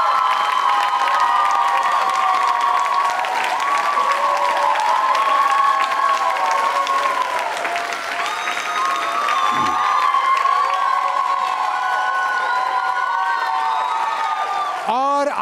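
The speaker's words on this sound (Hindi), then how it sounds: "तालियां बजाइए जोरों से अपने लिए" A college anniversary quiz show audience of teacher-training students claps and cheers loudly and steadily, with shouts and whoops mixed through the applause.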